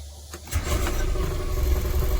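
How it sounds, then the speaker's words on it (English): A houseboat engine cranks briefly and catches, settling into a steady low rumbling idle, close by. "Engine start, engine stop."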